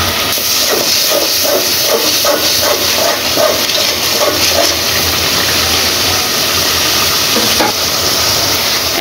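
Spices hitting a hot pan for biryani in a village kitchen, a loud continuous hiss and sizzle with faint stirring scrapes.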